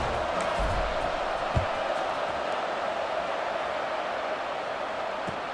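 Steady, dense stadium crowd roar in an EA Sports College Football 26 game during a fourth-quarter kickoff, a continuous broad wash of murmuring fans with a faint thump near the middle and no clear surge of cheering.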